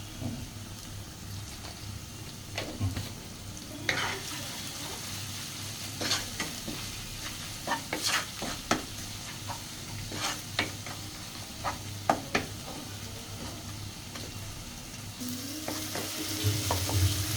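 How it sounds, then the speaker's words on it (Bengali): Salted chicken sizzles in a hot pan while it is stirred and tossed, a constant close frying hiss punctuated by repeated sharp scrapes and knocks of the spoon against the pan. "এটাকে নেড়ে চেড়ে প্রথম থেকেই আপনার লাল করে ফেলতে হবে"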